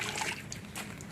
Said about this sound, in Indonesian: Nih sahabat, kita siram-siram aja yang sederhana saja. Siram ke potnya, siram ke sekeliling-sekelilingnya